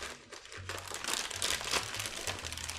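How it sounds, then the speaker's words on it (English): A regular plastic bag crinkles and rustles close up in a kitchen, with continuous crackling handling noise over a low background hum. "So I'm just using a regular plastic bag for this."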